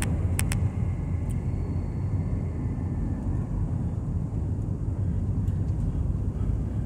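An old car driving without a trailer near Quartzsite, Arizona, its steady broadband road and engine rumble continuous and fairly close, with no voices.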